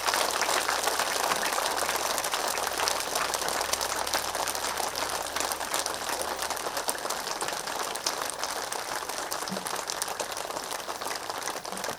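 A large audience at a religious festival gives sustained, dense applause that holds steady and loud for the whole stretch, with no talk over it.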